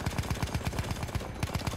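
Rapid gunfire in the video game Battlefield 1 rattles in a fast, evenly spaced burst of about a dozen close, sharp shots over under two seconds.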